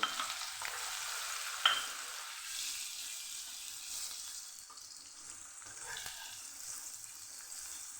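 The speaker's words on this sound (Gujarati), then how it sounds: "ડુંગળી સુધારેને લીધેલી પહેલાં આપણે સુધારે લીધી છે એ અહીંયા આપણે ઉમેરીને સરસ સાતડી લેવાની છે" Chopped onion sautéing in oil with mustard seeds, cumin and asafoetida for a Kathiyawadi moong and methi curry, a steady soft sizzle with faint stirring scrapes, moderately quiet and continuous, with no one talking.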